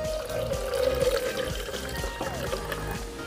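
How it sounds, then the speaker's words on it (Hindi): Water poured into a container to balance a capillary-action weight-lifting setup, a soft steady trickle and splash close by, fairly quiet and alone. "तो इसके लिए मैं इसमें पानी डाल दूँगा जैसे कि ये बैलेंस हो जाए।"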